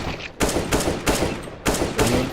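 Desert Eagle pistol firing in Counter-Strike: Global Offensive: four loud, sharp gunshots spaced roughly a third of a second to a second apart, each with a short reverberant tail, and no voices.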